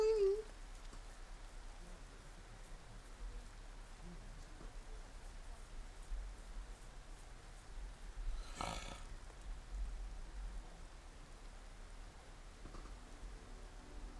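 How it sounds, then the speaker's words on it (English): Rain falling in the video game Persona 5 Royal, a faint, steady hiss of rainfall running evenly throughout, with a brief louder burst partway through. "It's raining."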